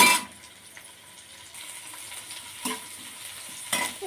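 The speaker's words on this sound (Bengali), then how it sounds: "পেঁয়াজটা আমার ভাজা হয়ে এসছে" Onions frying in a pan with garlic, a steady close sizzle with occasional clinks and scrapes of a spatula, no one talking.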